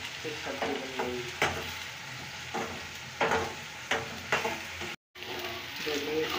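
Chillies frying in a pan, with a loud close sizzle and repeated bursts of stirring scrapes at an uneven rhythm, briefly cut to silence near the end.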